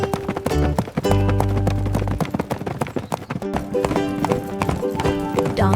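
Steady clip-clop of donkey hooves trotting in an even rhythm, set against loud, busy background music in an animated nursery rhyme.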